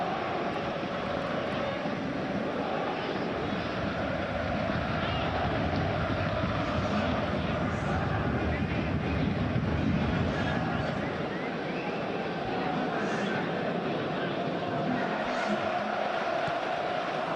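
A stadium crowd roars in the PES 2021 football video game during a Paris Saint-Germain vs Aston Villa Super Cup match. The roar is a steady, broad wash of noise that runs under a commentator's voice.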